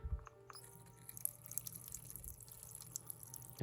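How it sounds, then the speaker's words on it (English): Water poured from a bottle into a dish inside a crested gecko vivarium, with soft trickling, dripping and splashing, close and quiet. "fill one of these up with water here"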